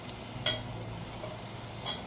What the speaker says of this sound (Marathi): आता आपण घालतो वाटण जे आपण मिक्सरमधून काढलं होतं.